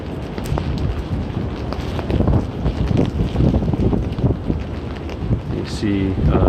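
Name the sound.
strong winter storm wind in NYC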